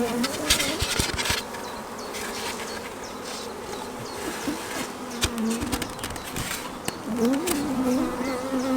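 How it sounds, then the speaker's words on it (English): A loud swarm of honey bees hums around an open hive and queen mating nucs, a close, wavering drone broken by occasional knocks and handling clicks, with no one speaking. "we can just brush these bees off, they'll go back to their"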